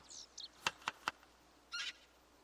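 Bird chirps in the video game Project Zomboid, a few short, sharp calls in quick succession followed by a brief trilling burst, faint and distant over a quiet ambient background.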